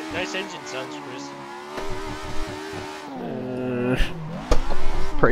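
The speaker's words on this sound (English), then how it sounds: "Nice engine sounds, Chris." Simulated car engine in the racing game Assetto Corsa, droning and revving up and down with gear changes, loud and close throughout, with a sharp louder burst near the end.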